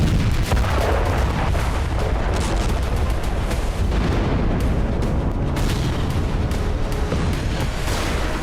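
Heavy, continuous rumbling bombardment of missile and bomb explosions striking towns in southern Lebanon, loud and dense with overlapping booms and blasts across the whole stretch, no voices.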